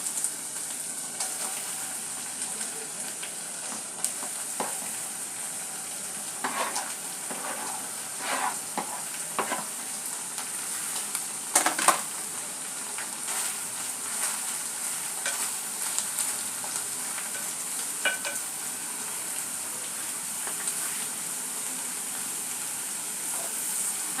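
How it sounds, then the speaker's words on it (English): Tomato and yellow capsicum fry and are stirred in a pan for spaghetti sauce, a steady bright sizzle broken by scraping stirs and small crackles, close and continuous with no talk. "So now is the time I'll add my tomato and yellow capsicum."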